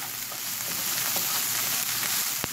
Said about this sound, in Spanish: Ustedes calculen que la cebolla esté ya así un poquito sofrita